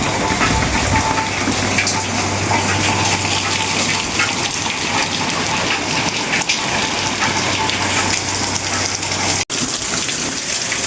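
Steady, dense rain pours down close by, a continuous broadband wash with a low hum beneath it and a brief dropout near the end.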